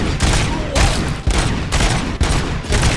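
A loud firefight in a RoboCop video game: dense volleys of close gunfire come in repeated bursts, each separated by brief gaps, with no talk over them.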